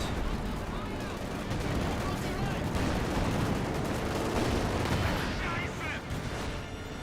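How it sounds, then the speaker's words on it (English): Battle in Company of Heroes 2 rumbles with dense gunfire and heavy blasts, a loud continuous barrage of booms and crackling shots, with a voice speaking over the din. "Heard a landmine detonation, or could that be a mortar detonation?"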